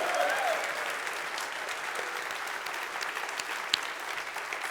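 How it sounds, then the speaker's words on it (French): A conference audience of magicians applauds themselves, steady, moderately distant clapping throughout, with a few cheers and a sharp louder clap near the end. "je voudrais que vous puissiez vous applaudir vous-même"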